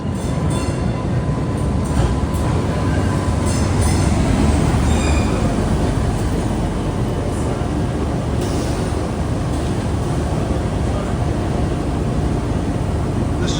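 A Boston MBTA Green Line trolley train rumbles steadily and loudly close by, with a continuous roar of wheels on rail and faint squeals and clatter throughout.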